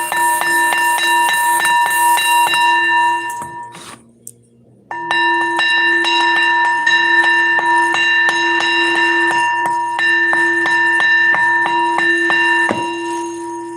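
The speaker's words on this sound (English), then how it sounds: "Let me hit this bell" A ringing bell is struck again and again in a steady rhythm, each hit leaving bright sustained overtones, with a brief pause partway through before the strikes resume, loud and close with no talk.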